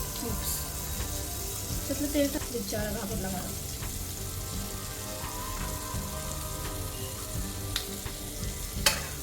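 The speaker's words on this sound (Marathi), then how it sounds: "पॅन गरम करत ठेवलेला आहे आणि आता टाकायचं आपल्याला बटर" Butter melting and sizzling in a hot pan with gas turned low, a continuous close frying hiss with faint clinks and a sharp tap near the end, with no talk over it.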